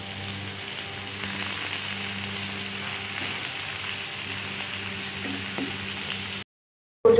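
Onions fry in oil for a chicken korma, giving a steady, close sizzle that holds evenly for several seconds before cutting to silence at the end.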